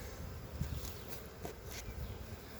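Honey bees buzz around an open queenless hive during an inspection, a steady diffuse hum close by with a few louder passes near the ear.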